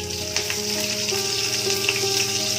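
Green chillies hit hot oil in a kadhai with a loud, continuous hiss and crackle that holds steady for the whole stretch, with faint tonal hum beneath and no talk.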